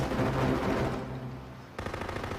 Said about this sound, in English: They've been spraying the hell out of us all morning. And they got some kind of heavy artillery, 50 caliber or bigger.